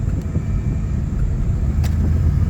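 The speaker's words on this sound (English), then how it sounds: "it has developed a bit of an exhaust manifold leak, so it is somewhat louder than it used to be" A 1995 Buick Park Avenue with an exhaust manifold leak gives a steady, low exhaust rumble throughout, fairly quiet and close, with no talking.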